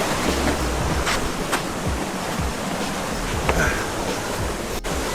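Creek water rushes steadily over slippery rocks near Seven Falls in Santa Barbara during spring flow, a dense, continuous broadband wash close by with no talk.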